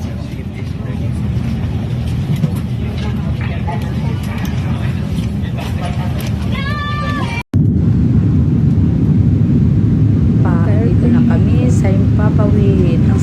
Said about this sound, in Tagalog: paakyat na ang eroplano